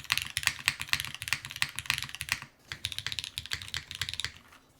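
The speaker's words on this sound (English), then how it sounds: "Sound-wise, though, I think you can probably get really good sound profiles out of either of them" Fast, continuous typing on the Lila 60% mechanical keyboard, dense clacky keystrokes with a brief pause midway, close up and with no voices.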